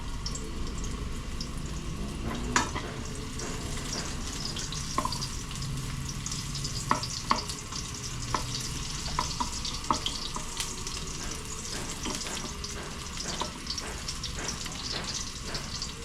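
Onions going into garlic already frying in a kawali, with a steady close sizzle and hiss broken by occasional small clicks and taps throughout; no one speaks.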